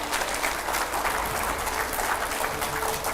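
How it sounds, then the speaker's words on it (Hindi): Loud, continuous studio audience applause as a guest arrives on a TV news debate set, a thick, unbroken wash of clapping with no talk over it. "जोरदार तालियों से स्वागत करिए।"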